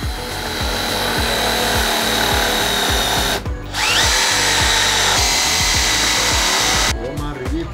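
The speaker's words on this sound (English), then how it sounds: "use a self-tapping screw to screw the pergola into the post" A power drill drives a self-tapping screw into a PVC pergola post, a loud, close, sustained whir with a short pause midway and a brief stop near the end.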